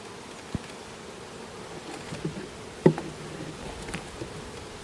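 Honey bees drone softly around an open hive during an inspection, a faint, steady buzz with a few light knocks and rustles close by.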